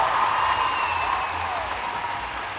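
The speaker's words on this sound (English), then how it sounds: "The home crowd erupts as she lands that great dismount." Home crowd at a junior and senior gymnastics event final cheers and applauds after a landed dismount, a broad, steady wash of clapping and crowd noise that holds loud throughout, with a faint voice line drifting over it.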